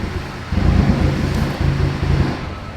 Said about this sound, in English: It's an air leak somewhere on the intake manifold